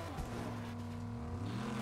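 A car in an online shooter video game, its engine a steady, faint drone that rises and falls slightly in pitch over a couple of seconds with no talk.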